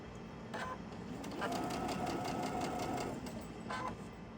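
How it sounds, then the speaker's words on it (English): A sewing machine runs close by, stitching the ends of a strip of fabric in a steady rapid whir, with short start-and-stop bursts at either side of a longer run. "When we get finished sewing both these ends"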